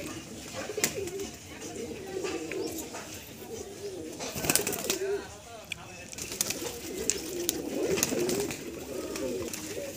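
Pigeons coo repeatedly in soft, rolling bursts close by, mixed with occasional wing flutters and clattering knocks, while someone talks intermittently over them.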